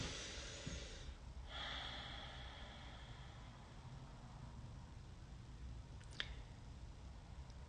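A single deep breath drawn close to the microphone during a quiet live online session, a soft airy inhale near the start followed by a long low hiss of near-silence and one brief faint click late on, with no talking.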